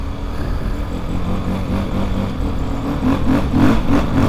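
A vehicle drives on snow with its front tyre heavily deflated, a steady engine drone with a rhythmic rubbery thumping growing louder toward the end.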